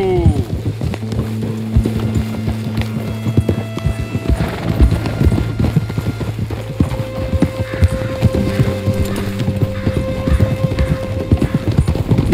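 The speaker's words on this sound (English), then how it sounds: "Mount up then, Morgan. Let's go then. Giddy up" Horse hooves clip-clop steadily at a riding pace in the Red Dead Redemption 2 video game, with a low musical hum beneath and brief voices over the hoofbeats.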